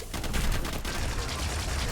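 Rapid machine gun fire in the arena shooter Diabotical during a District duel match, a dense continuous burst of shots running through the clip at moderate distance with no talk over it.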